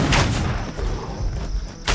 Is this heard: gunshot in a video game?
yes